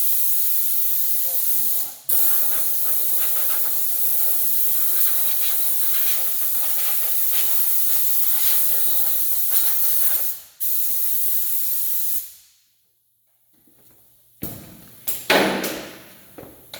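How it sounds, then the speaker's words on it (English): Compressed air blow gun used to clean a brake job work area, giving long loud hissing blasts with short breaks, a few brief clanks near the end, and a little talk in the background. "Blow gun. Clean my working area."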